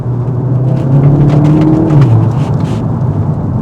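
A modded 2018 VW Golf GTI Mk7.5 accelerating in third gear, its engine drone loud and close with a steady rising rumble inside the cabin that eases off near the end.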